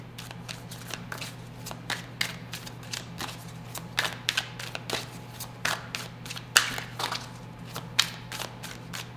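Tarot cards being shuffled by hand, a long run of quick papery riffles and slaps in irregular bursts, close up over a low steady hum.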